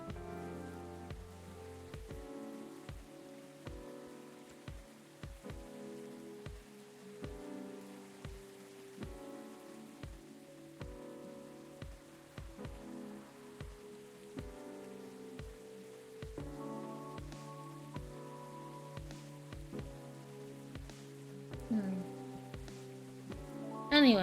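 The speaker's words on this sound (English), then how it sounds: "I just love it when it rains outside and you're all warm indoors." Rain falls outside in the video game Coffee Talk 2, a soft, continuous patter heard quietly beneath gentle background music.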